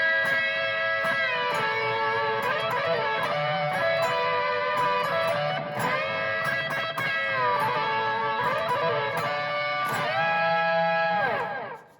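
Sustained electric guitar notes through a TC Electronic Plethora pedalboard, layered with pitch-shifted harmony voices, bending and gliding through a melodic phrase before ringing out at the end.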